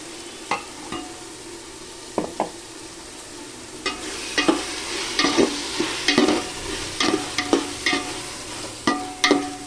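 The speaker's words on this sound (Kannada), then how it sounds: "ಈಗ ರುಬ್ಬಿರೋ ಮಸಾಲೆ ಹಾಕ್ತಾ ಇದ್ದೀನಿ" Ground masala stirred into cooking vegetables in a pan sizzles quietly while a spoon scrapes and knocks at first sparsely, then in a quicker irregular run, close by with no one speaking.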